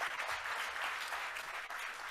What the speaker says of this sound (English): if we could please have a very enthusiastic round of applause for Deepak Raj